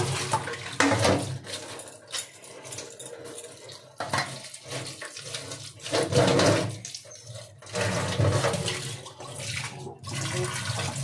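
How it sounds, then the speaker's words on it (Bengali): A large hilsa fish is rinsed under a running tap in a sink, water gushing and splashing in uneven surges with intermittent lulls and some clattering as the fish is handled, close and without talk. "বড় মাছ তো ধুতে ভালো করে ধুতে সময় লাগবে"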